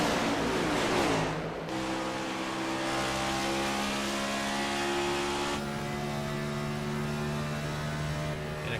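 Race cars roar past at Darlington in a sim racing game, engines droning loudly and steadily with revving shifts as the pack passes in a continuous engine sound without talk.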